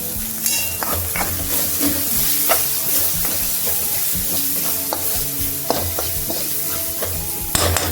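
Maggi masala and pasta masala frying in a pan with vegetables for masala pasta, a steady loud sizzle with repeated scraping stirs of a spoon against the pan.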